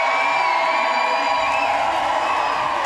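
A roller derby crowd at a World Cup bout between Argentina and Ireland cheers wildly, a dense, continuous roar of shouting and whoops filling the arena at a steady level.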